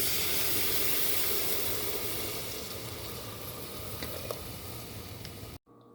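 Milk poured into melted butter and caramelised sugar for pink palada payasam, a loud steady sizzle and steamy hiss that gradually eases and then cuts off abruptly near the end.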